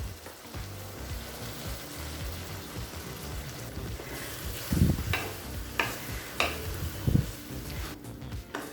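Ground coriander paste and salt sizzle in a pan of sautéed onions, a quiet steady fry with several scraping stir strokes and light clatters in the second half.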